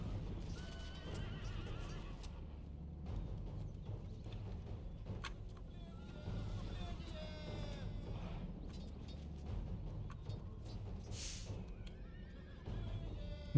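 Horses neigh and whinny over galloping hoof clatter during a horse archer battle against Byzantine horse archers in the Rome Total War game, a steady dense din of calls rising and falling across the whole stretch.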